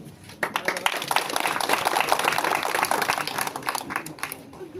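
Audience clapping at an outdoor political corner meeting held in Dattanagar during a campaign for MLA Ashutosh Kale: scattered, uneven claps rise after a quiet start and continue steadily at moderate loudness, mixed with a murmur of crowd voices.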